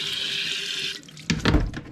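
A tap runs into a container being cleaned out during rock polishing work, a steady hiss of water that cuts off, followed by a few close sloshing splashes.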